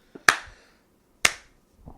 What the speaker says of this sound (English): So, slow clap, Spielberg.